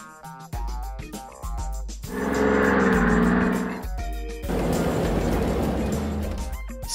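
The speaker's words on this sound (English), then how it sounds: "Tow truck." A tow truck drives by with a loud engine drone that swells and fades, then returns as a rougher rumble, with brief tonal bursts before and between.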